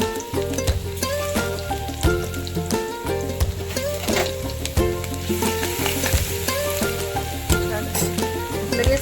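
Cumin seeds and ground garlic sizzle in hot oil on a gas stove while vada pav is being made: a steady, crackling fry with bright pops and spits continuing throughout.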